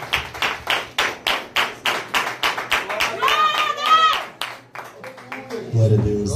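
A church congregation claps in steady rhythmic unison during an evangelical service, sharp regular hand strikes close and loud, mixed with voices singing or calling out over the beat before it fades toward talk.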